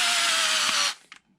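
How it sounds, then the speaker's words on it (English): A power tool whirs in one short, loud, steady burst as it drives long screws into an ARRMA Infraction RC car cover, then stops abruptly, followed by a few faint clicks. "I don't usually use power tools to put screws back in"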